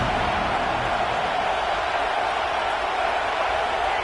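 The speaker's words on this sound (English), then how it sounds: "This crowd ready to make its presence known." Stadium crowd at a Nebraska college football game, a steady, dense roar of many voices filling the whole stretch without breaks or distinct cheers.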